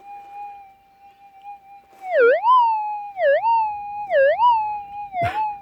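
Metal detector target signal heard through a SteelPHASE SP01 audio enhancer, a steady tone that dips in pitch in three repeated warbling swoops, then ends with a short sharp burst, loud and clear.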